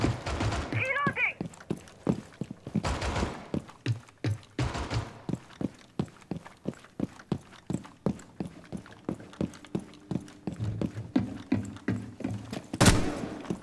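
R4-C rifle gunfire in the video game Rainbow Six Siege, heard as rapid bursts and single shots repeating sharply over about fourteen seconds, loud and close, with a voice talking in between.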